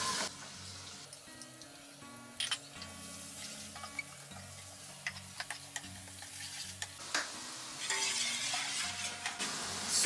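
Three finely chopped onions fry in a pan with a steady soft sizzle and occasional stirring scrapes, while quiet background music plays and no one speaks.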